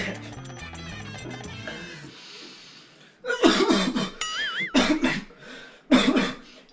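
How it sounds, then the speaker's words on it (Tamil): Music plays briefly, then after a short pause someone coughs several times in harsh, close bursts, with a chiming sound mixed in. "இருமல் வருது."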